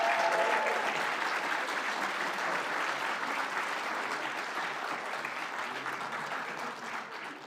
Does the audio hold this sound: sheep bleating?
no